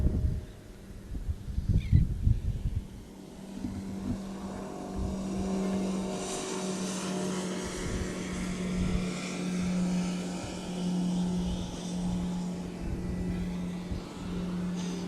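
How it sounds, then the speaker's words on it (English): Motorboats passing on open water near a beach, a steady low engine drone that swells and lingers at moderate distance, with wind and wash noise around it and no talk. "You hear some boats that just went by."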